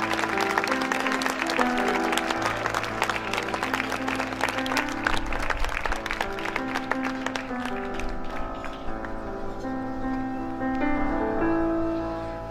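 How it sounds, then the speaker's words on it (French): A concert audience at the château de la Bouchatte applauds pianist Olivier Ivrard. Dense clapping runs over sustained piano notes, then thins out after about eight seconds as the piano rings on alone. "Je vous demande de l'applaudir très fort, s'il vous plaît, au piano, monsieur Olivier Ivrard."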